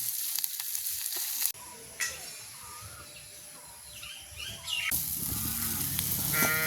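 A pepper-spiced egg roll filling frying in a pan and stirred, heard as a continuous close sizzle with occasional scraping strokes, joined by a faint animal call in the background, without talk.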